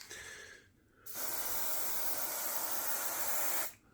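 Foliatec peelable spray paint hisses from an aerosol can onto car wheel rims, a short burst followed by a brief pause, then one long loud continuous spray close by that cuts off sharply.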